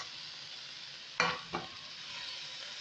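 Carrots tip into a hot pan with a steady sizzle; two sharp clatters land close together, then the frying hiss settles back down, with no talking.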